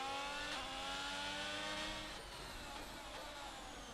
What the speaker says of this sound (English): That Aston Martin safety car sounds so nice.